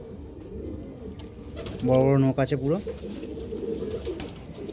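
Pigeons coo in a short, rolling burst near a bird stand where quality breeding pigeons, including a hen, are kept for sale, while someone talks over and around the calls.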